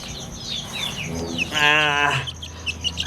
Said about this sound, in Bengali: এইটা হলো আমার যে একটু বড় সাইজের মুরগি বা মুরগির বাচ্চা